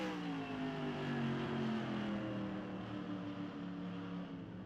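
Race cars circle an oval track at Evergreen in a FARCA event, their engines making a steady, loud roar with pitch sliding down as they run through the corners, one car pressing close behind another.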